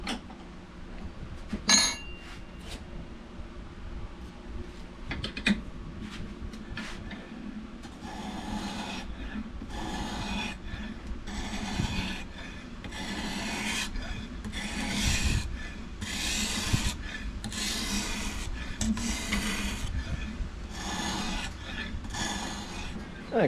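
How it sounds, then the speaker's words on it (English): A knife blade rubbed back and forth across a finer-grade sharpening stone while held in a knife carrier, a steady series of rasping strokes, close and moderately loud, repeating in even rhythm for about twenty seconds. "now we repeat this process for finer grades of sharpening stone."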